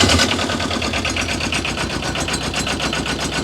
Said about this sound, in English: that is the diesel engine.